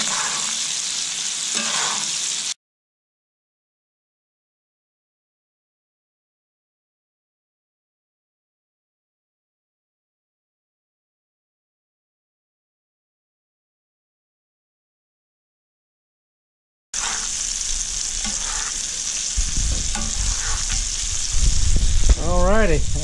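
A steak sizzles in butter in a pot, a loud crackling fry heard at the start and again after a long stretch of silence, with stirring and clanking near the end.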